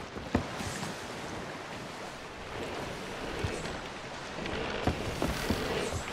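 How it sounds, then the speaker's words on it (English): Rain and distant thunder from a storm at sea in Sea of Thieves, a steady wash of rainfall with a few soft low rumbles and scattered drop-like clicks. "Oh no, that's thunder. Guys, the storm's coming."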